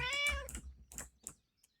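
A cat meows close by indoors, one clear drawn-out meow followed by a couple of shorter, softer chirping meows, with no talk over it.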